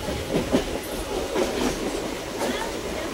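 Interior of a packed moving local commuter train, with a rhythmic clickety-clack of wheels over rail joints and rumbling carriage noise, passengers' voices faintly mixed in.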